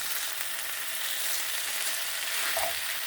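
Chili for chili dogs sizzling and being stirred in a pan, a loud continuous frying hiss with scraping stir sounds running throughout.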